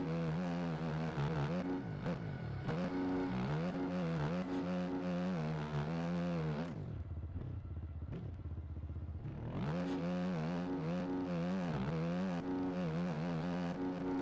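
Yamaha motocross bike with a KTM model in a racing video game, its engine droning loudly and steadily with rising and falling revs, dipping briefly mid-lap before roaring back up.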